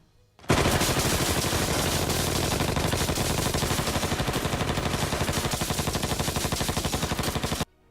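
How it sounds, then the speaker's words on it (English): A Tommy gun fires one long, unbroken burst of rapid automatic shots lasting about seven seconds, loud and close, stopping abruptly. "fascinated with the gangster and their weapon of choice, the Tommy gun"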